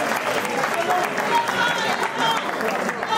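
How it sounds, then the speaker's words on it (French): Guests at a dance party in Villers-Saint-Paul clap together in a steady, fairly close round of applause that lasts throughout, with faint voices and background music mixed beneath. "applaudissez pour lui."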